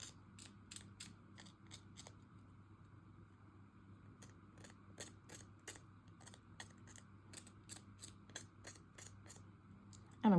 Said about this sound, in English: Now I'm going to just kind of trim this up a little bit, make it more even. Take your scissor,